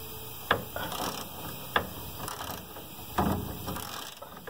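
Ratchet with a flex socket tightening a rear shock bolt on a 2002 Sonoma pickup, rapid clicking pawl runs in several bursts with sharp knocks between them, close and alone.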